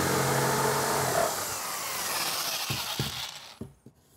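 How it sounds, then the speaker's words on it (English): A jigsaw cuts out the corners of a board for a paint booth build, a loud close buzzing rasp that stops after about a second, followed by quieter handling noise and knocks. "and then we'll cut it out with a jigsaw."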